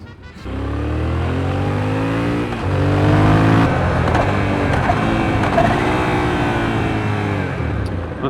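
A moped motorcycle engine running while being ridden, loud and close, with the pitch rising through repeated revs and gear changes for several seconds. No talk is heard over it.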